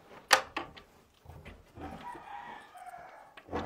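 A chicken close behind gives a series of clucking calls with a longer drawn-out cackle in the middle, fairly near and moderately loud, with farmyard background and no clear talk.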